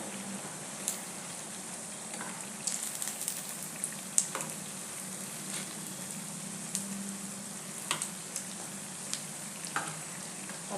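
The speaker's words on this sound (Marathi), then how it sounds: "हे बघा असं परतत परतत भाजून घ्यायचं" Leftover-rice cutlets packed with vegetables pan-frying in oil, with a soft steady sizzle broken by repeated light clicks and scrapes as they are turned, close and unhurried.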